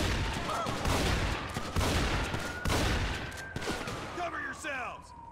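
Sustained gunfire from a shooter inside a house in the video game GTA 5, a dense, loud fusillade of overlapping shots with a voice talking over it, thinning near the end.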